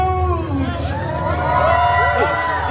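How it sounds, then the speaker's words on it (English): An audience at a live Deadpool Christmas story-time show at Disneyland California cheers loudly and steadily, a dense close roar of shouts and whoops with voices mixed in. "Stop cheering, all right?"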